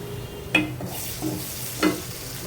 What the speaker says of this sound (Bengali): চিংড়িগুলো আগে দিয়ে নিলাম একটু কালার আসুক তারপরে হচ্ছে আমি মিষ্টি কুমড়া দিয়ে দিলাম